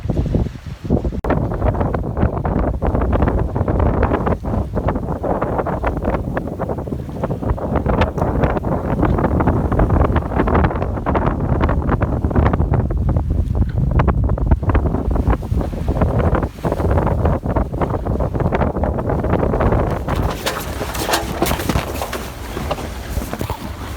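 A sailboat under reefed sail moves along at about five knots, with steady wind buffeting the microphone, water rushing against the hull and waves washing past, loud and continuous throughout without talk.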